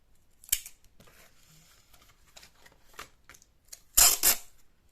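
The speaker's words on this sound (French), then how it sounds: "je prends du scotch traditionnel là, hein," Clear transparent adhesive tape pulled from a roll and pressed onto a scrapbooking album page, giving a few short, close ripping and crackling bursts between quiet gaps, with the loudest strip near the end.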